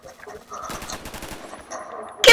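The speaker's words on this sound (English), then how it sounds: "I heard that shot." Rapid bursts of automatic gunfire from the shooter game Phantom Forces, two quick volleys in quick succession and then a sharp loud shot at the very end, close and punchy, with no speech.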